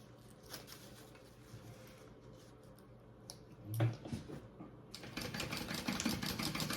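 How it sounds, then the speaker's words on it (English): A sewing machine runs a short basting stitch, an eighth of an inch, along the top edge of a travel belt pocket. A steady mechanical whir grows louder and busier in the second half, with no one talking. "I'm going to baste along the top first before I baste the rest of this to my pocket"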